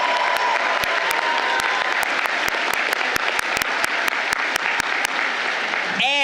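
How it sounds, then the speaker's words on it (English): A large commencement crowd applauds loudly and continuously, dense clapping with a few sharp louder claps standing out, then a voice begins to speak at the very end. "they deserve a round of applause"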